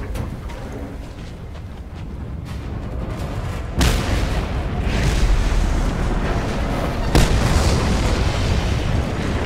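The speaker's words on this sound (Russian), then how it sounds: "Требуется взрыв." Explosions in the Mad Max video game: a heavy blast at about four seconds and another near seven seconds, each sending a rumbling roar over a continuous background of game noise.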